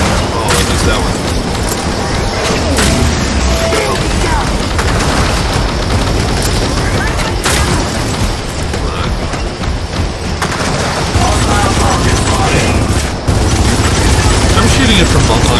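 Gears of War 4 gunfire: a loud, continuous wall of shooting, booms and mechanical clatter that barely lets up, with a voice talking through the din.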